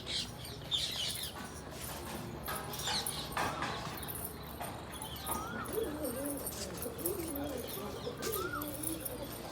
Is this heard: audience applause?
no